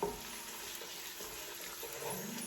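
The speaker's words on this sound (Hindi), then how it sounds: "अब इसके अंदर ऑनियन शामिल कर देंगे। ये लें जी, ऑनियन को प्रॉपर ब्राउन कर लेंगे।" Onions frying in a pan for chana pulao, a steady low crackling sizzle heard close and fairly quiet, continuous with no talking.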